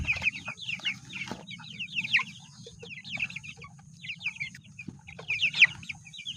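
A flock of 45-day-old chickens clucks and peeps continuously nearby, with busy, overlapping chirps above a low murmur of shuffling movement and no talk.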